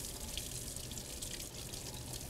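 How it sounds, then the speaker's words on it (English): Running tap water splashes steadily over a glass hemocytometer in a lab sink, a quiet, continuous hiss and trickle, close by with no talk. "then you're going to rinse it off in tap water"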